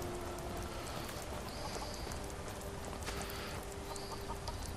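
Steady rain in a fantasy game setting, a dense even patter filling the whole stretch with a clucking chicken nearby and no talk.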